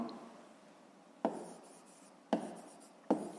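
Handwriting numbers on paper during a fifth-grade math exercise, soft scratchy pen or pencil strokes, close and quiet, with three sharp taps marking ends of strokes.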